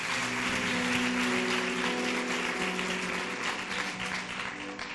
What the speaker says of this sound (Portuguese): Dê um lindo aplauso para o Senhor.